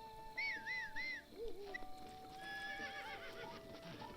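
Horse neighing and hooves clip-clopping in a Zelda video game, a whinny followed by snorts and a rhythmic trot over a bed of game music and ambient tones.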